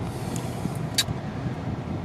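Quiet interior ambience of a parked car, a steady low rumble with faint muffled road noise outside and a couple of brief higher clicks, no one talking.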